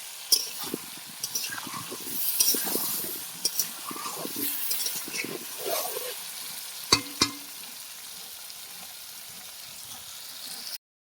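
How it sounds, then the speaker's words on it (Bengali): Potatoes frying in oil with turmeric and salt, stirred in the pan: a steady close sizzle with scraping and stirring strokes throughout, and two sharp knocks near the end, with no talking. "আলুগুলো সব লাল লাল করে ভেজে নিয়েছি"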